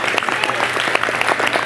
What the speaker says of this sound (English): give him a big hand clap for that